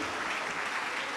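Sustained audience applause filling a hall, a dense, steady wash of many hands clapping at an even level throughout, with no voices rising above it.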